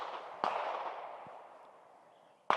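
Two sharp, loud gunshots from a Ruger RXM pistol during an ammunition test, spaced about two seconds apart, each cracking against a long reverberant tail that slowly fades between them.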